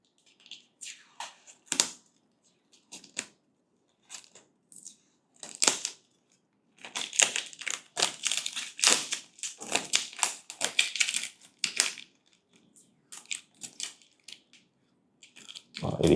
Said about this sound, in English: It is always quite satisfying removing all these packaging or wraps.